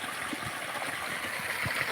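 Irrigation water flows and gurgles steadily at low volume through a peanut field, a soft continuous trickle with no voices.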